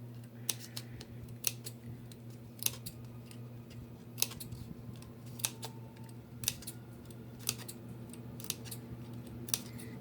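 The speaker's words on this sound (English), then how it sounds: "So I'm gonna take some scissors" Scissors make a steady series of crisp snips while cutting small slits around the edge of a paper towel tube, each cut a sharp click-like transient over faint background hum, with no talking.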